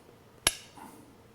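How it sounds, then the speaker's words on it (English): A 3-pound steel hammer snaps onto a strong magnet used in a Mercedes rear differential fluid change, one sharp, bright metallic clink followed by a brief ringing decay and a faint rustle. "I'm going to take that 3-pound hammer that I used to help get the plug out, and watch this"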